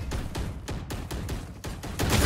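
Gunfire in the Valorant video game comes as a rapid run of sharp, evenly spaced shots, loud and close, roughly five or six bursts in quick succession.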